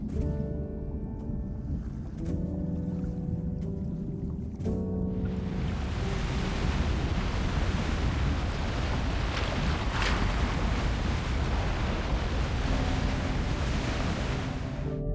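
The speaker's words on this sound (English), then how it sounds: "It's the waves. They're just too strong." Strong ocean waves rush and roar continuously, a broad wash of surf and wind after a brief tonal passage at the start.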